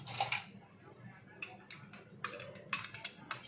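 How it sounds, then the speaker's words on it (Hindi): Mango pieces are dropped into a pressure cooker in a kitchen, giving a quick run of light clinks and taps against metal, spaced and uneven, close by with no talking. "1 कप मैंगो को कुकर में डाल देना है।"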